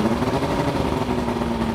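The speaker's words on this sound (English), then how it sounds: "For a 2-stroke motor, really not that bad. Not loud at all." A 1998 Sea Hunt Triton 172 center console's two-stroke outboard motor idles steadily at close range, a continuous low rumbling drone with an even, buzzy texture.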